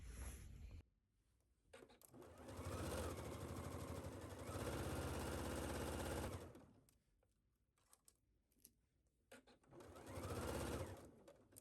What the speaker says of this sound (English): so take this to your sewing machine and sew it at 5/8 of an inch